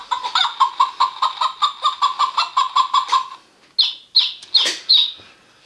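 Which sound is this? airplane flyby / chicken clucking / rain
chicken clucking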